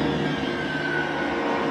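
A train in a TV show, a steady rumbling rail drone with a faint sustained tonal whine, continuous and fairly loud.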